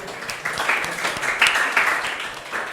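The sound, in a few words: classroom applause for a student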